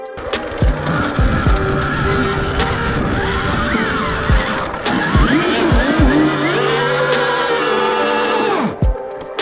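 An electric motorcycle's rear wheel spins and skids on a steep climb, giving a loud, continuous whine with rising and falling tire squeal that runs for most of the stretch before cutting out.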